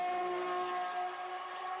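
A 1992 Larrousse Formula 1 car with a Lamborghini engine sounds a loud, steady high-pitched engine whine as it takes a curve and accelerates out, with no talk over it.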